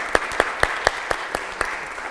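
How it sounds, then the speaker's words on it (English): A small group at a wedding rehearsal in St Joseph Church, Hewlett, claps in unison, about eight sharp evenly spaced claps in a steady rhythm echoing in the church, fading slightly toward the end. "if you want to keep practicing more clapping"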